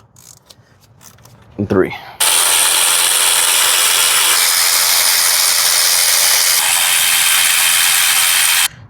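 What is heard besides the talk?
ratchet loosening thermostat housing bolts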